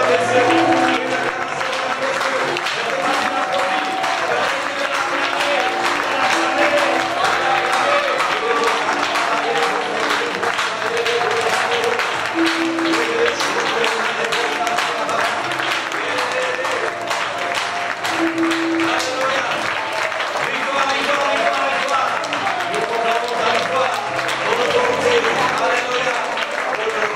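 A church congregation at a conference applauds and cheers in a steady, dense roar that lasts throughout, with voices mixed into the crowd noise.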